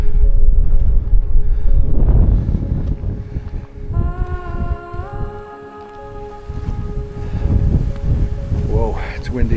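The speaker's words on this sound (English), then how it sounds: "Whoa, it's windy here." Strong wind gusts on a mountain summit near Tunkhel, Mongolia, roaring and buffeting the microphone loudly for the whole stretch, with a thin steady whistling tone running through the middle.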